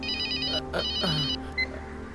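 A telephone rings in a scene from the Tamil film Pudhu Vedham, an electronic trill that starts, pauses and resumes in short bursts, loud and close.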